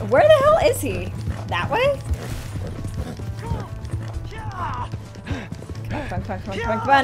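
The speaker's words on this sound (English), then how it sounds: "This horse is a pretty good little horse." Horse hooves clip-clop in Red Dead Redemption 2 as a rider urges the mount on, steady rhythmic steps running under loud, frequent speech throughout.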